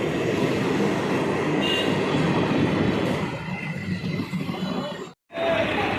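A train rumbling through Chuchura railway station in Hooghly, a loud steady roar of wheels and carriages with faint squeals, fading slightly before a brief dropout.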